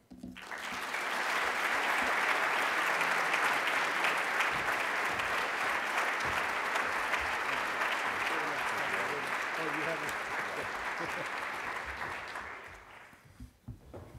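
A lecture audience breaks into sustained applause welcoming NFL commissioner Roger Goodell, a dense, even wash of clapping that swells quickly, holds steady for about twelve seconds, then fades out.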